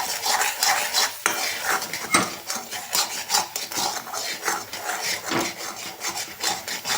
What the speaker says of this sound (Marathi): त्याच्यामध्ये आपल्याला हे हलवत राहावं लागणार आहे